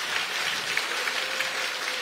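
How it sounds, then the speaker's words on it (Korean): A crowd applauds at a Democratic Party election campaign committee closing ceremony, dense continuous clapping that stays even and fairly loud throughout. "여러분 큰 박수 부탁드립니다"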